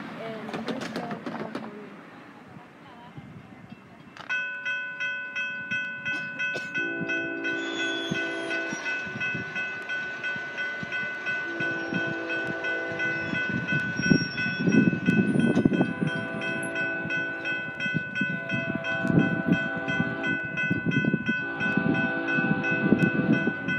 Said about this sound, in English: Here comes a BNSF intermodal train.